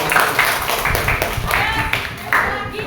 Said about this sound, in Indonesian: Tepuk tangan untuk Zuleha